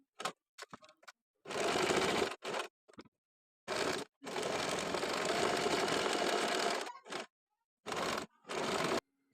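Sewing machine stitching a buttonhole on a girl's kaftan top, close-up bursts of rapid whirring, one long run and several shorter ones separated by silence.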